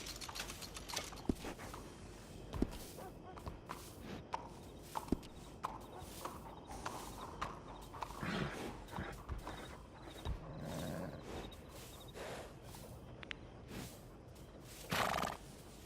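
Horse in Red Dead Redemption 2 whinnying and snorting between scattered hoof clops and footsteps, close and fairly quiet, with short bursts spread across the stretch and no talk.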